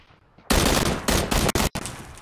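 Gunfire in a video game, several loud bursts of rapid automatic fire separated by short gaps, close and harsh, with no talking.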